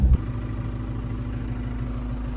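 Tractor engine idling nearby with a steady low chugging rumble and a rhythmic pulsing beat, a brief knock at the start, then continuous even running with no one talking.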